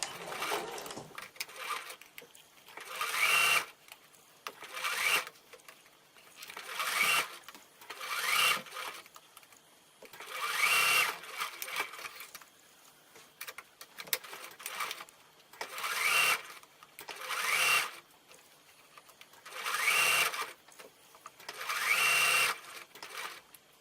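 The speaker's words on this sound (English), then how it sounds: "So we're now going to sew along the armhole." A sewing machine stitches along the armhole of a child's dress in repeated loud bursts of whirring run, each a second or so long, separated by short pauses, with no talk.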